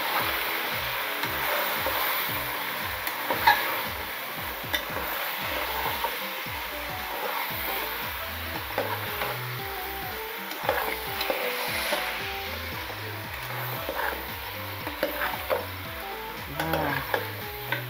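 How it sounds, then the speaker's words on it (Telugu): Country chicken frying in oil as it is stirred, a steady loud sizzle under rhythmic scraping strokes of a spoon against the pan, repeating closely throughout. "ఇప్పుడు మనము మంచిగా కలిపెట్టుకుందాం"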